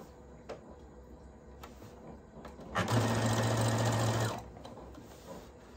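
A sewing machine stitches black fabric for a stand-up cosmetic zipper bag, one steady close run of about a second and a half, loud and alone amid quiet room noise.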